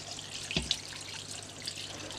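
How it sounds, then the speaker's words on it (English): Filtered water poured into an Instant Pot while making bone broth, a faint brief splash and trickle standing out over a steady low background. "Then I'll add some water, some filtered water, that's important."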